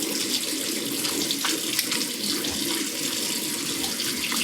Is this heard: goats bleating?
no